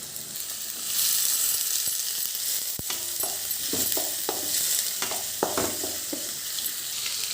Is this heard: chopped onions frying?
yes